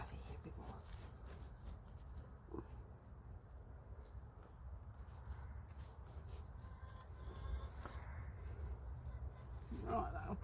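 Backyard chooks clucking near a garden bed where garlic is being planted, soft intermittent clucks over low outdoor rumble, with a person talking nearby at times.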